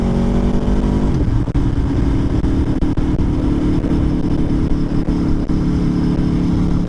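A 2024 Aprilia Tuono V4 Factory motorcycle engine revs up and then holds a loud, close, throaty drone, with a rising pitch sweep at the start settling into a steady roar.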